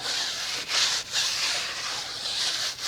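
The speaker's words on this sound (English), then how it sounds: "I'll just use this brush and just scrub around just like that" A hand brush scrubs around a car wheel rim and tire, giving a steady, close, bristly rubbing sound in repeated strokes with brief pauses between passes, alone without talk.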